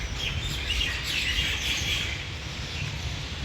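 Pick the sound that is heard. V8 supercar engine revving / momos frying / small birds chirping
small birds chirping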